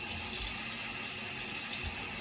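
Tap water running steadily into a sink while a face mask is rinsed off, a continuous close hiss and splash with no talking.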